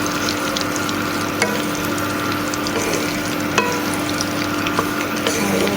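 Mango pieces and spices being stirred in a pan over a low gas flame for mango pickle: a steady soft sizzle with occasional sharp scrapes of a utensil against the pan.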